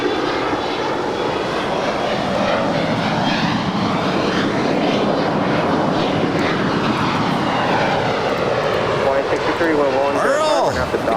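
A Boeing 767-200 cargo jet at Los Angeles airport spools up its engines, a loud near roar with sweeping tonal whines that climb and shift throughout, and a voice talking over it.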